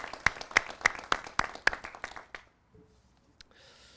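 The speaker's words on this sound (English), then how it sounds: "join me in giving him a round of applause" A short round of light clapping from a small group at a U.S. Attorney's Office ribbon-cutting ceremony, several distinct claps that quickly fade to near silence.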